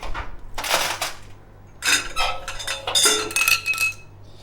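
Metal wing nuts for a Coleman charcoal field grill being handled, giving bursts of bright metallic clinks and jingles in several close, irregular clusters with short pauses between.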